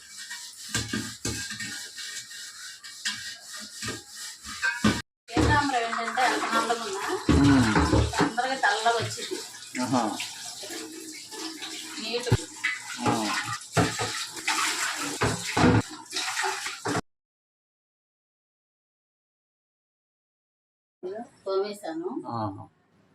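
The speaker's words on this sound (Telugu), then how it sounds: "నీట్గా తోమ మంచినీళ్ళు పడతాను" Water runs from a tap into a copper pot, a splashing gush that rises and varies in pitch as the pot fills, then cuts off into silence before a brief final burst.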